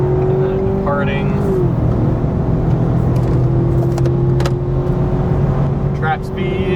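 A Ford Maverick Tremor pickup drives off and accelerates, its engine drone loud and steady with shifting tone, heard from close inside while people talk over it.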